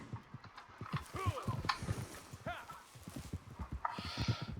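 Horse hooves clip-clopping in a video game, quick rhythmic steps under French conversation, with a short neigh near the end.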